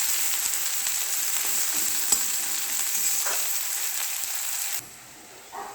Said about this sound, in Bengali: পেঁয়াজ দিলাম, পেঁয়াজটা ফ্রাই করি।